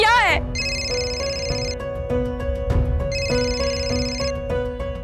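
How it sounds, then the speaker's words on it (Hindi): A telephone rings in two repeated bursts of an electronic ringtone, clear and fairly loud indoors, with voices speaking beneath it. "सूरजकांत का फोन है"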